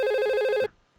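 Simulated VoIP phone in Packet Tracer giving a steady electronic ring that cuts off abruptly partway through, leaving near silence, with no talking.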